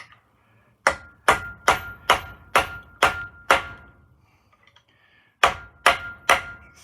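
Metal-on-metal hammer blows drive a drift against a differential bearing on a Land Rover Perentie Salisbury diff: a run of seven sharp, evenly spaced strikes, a pause, then three more, close and loud.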